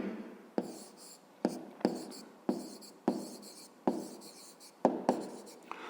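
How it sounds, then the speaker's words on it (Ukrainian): Pen or pencil writing an answer by hand on paper during a fifth-grade maths exercise, a run of close scratchy strokes broken by short sharp taps, about eight bursts, near and moderately quiet, no voices. "Пишемо відповідь."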